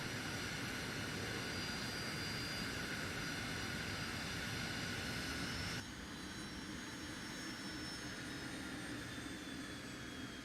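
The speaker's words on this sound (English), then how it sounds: "I'm about to fly a Shikra with the Blue Force pilots" A Shikra jet aircraft flying in a video game, heard as a steady, loud, continuous jet roar with a high whine, dropping slightly in level midway and carrying on without talk.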